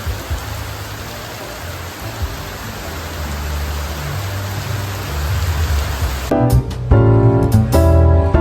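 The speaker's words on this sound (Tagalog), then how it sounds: "It's raining hard." Heavy rain falls in a steady, dense wash throughout, turning louder and closer near the end with sharper individual splashes, with no talking.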